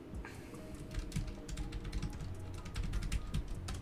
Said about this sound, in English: Loud typing, probably